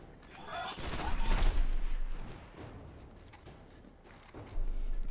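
Sniper rifle fire in the video game Destiny: a sharp, loud shot followed by a rolling crackle of gunfire that fades into ambient battle noise, with another burst rising near the end.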